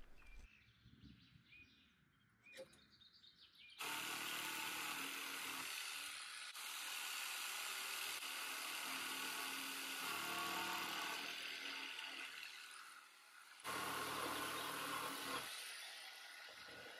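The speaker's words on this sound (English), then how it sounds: "I used my cordless jigsaw and a chisel to cut them out" A cordless jigsaw cuts notches into a wooden chair seat, a loud buzzing rasp that runs for several seconds, pauses briefly, then resumes, after quieter handling sounds at the start.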